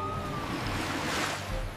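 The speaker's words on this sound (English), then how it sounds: "Those waves are about to breach the canal walls." Cartoon canal waves surge and rise against the walls, a rough windy wash of water swelling toward the middle and easing off at the end, with no talk.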